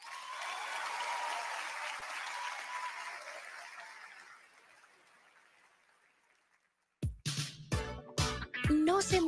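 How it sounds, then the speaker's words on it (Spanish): An awards-show crowd applauds Carlos Durán, a broad wash of clapping that swells early and then slowly fades to near silence, before loud musical hits and a tone come in at the end. "pido un aplauso para él"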